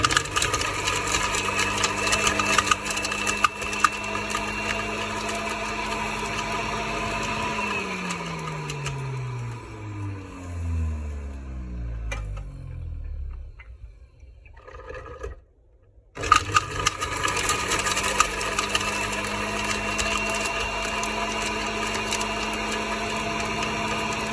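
An electric juicer grinds carrots with a steady motor whir and crunching. Partway through, the motor pitch slides downward as it bogs under load and nearly stalls, then it picks back up to full speed.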